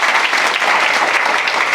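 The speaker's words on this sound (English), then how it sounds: "I think round of applause for this" Audience applause at a mental health gathering for men, a brief, loud, continuous burst of many hands clapping with no break.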